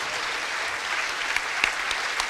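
Standing ovation at a memorial gala, a steady wash of many hands clapping at moderate distance, with a few sharper individual claps poking through near the end.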